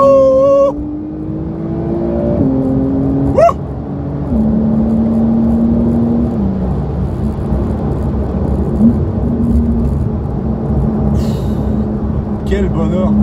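A 2019 Porsche 911 992 S pulls away and accelerates on a twisty road after tight bends, its engine note climbing through gear changes with distinct steps and rising whine, loud and close throughout.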